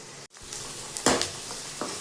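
Onions and curry leaves sautéing in hot oil for country chicken curry, a steady close sizzle broken by a few sharp stirring scrapes and rustles, with no voices.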